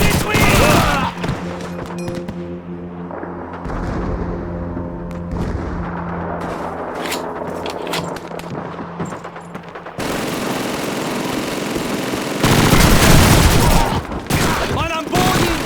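MG-42 machine gun fire in a Call of Duty 2 battle, long rattling bursts and heavy booms filling the scene, loud and near, with shouted voices over the combat.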